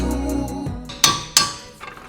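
A hammer gently taps a coilover bolt out on a VW T7 Transporter suspension, giving two sharp metallic clinks with ringing decay, then a fainter tap, heard close.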